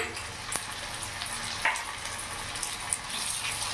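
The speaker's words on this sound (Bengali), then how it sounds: "মশলাটা একটু ভাজা ভাজা হোক যাতে রসুনের কাঁচা ভাবটা গন্ধটা চলে যায়" Ginger, garlic and chili paste frying with onions in a pan for a rohu fish bhuna, a steady close sizzle broken by a few sharp stirring scrapes and clinks.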